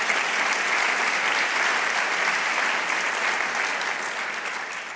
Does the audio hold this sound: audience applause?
yes